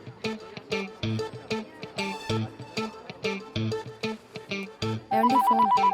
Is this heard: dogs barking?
no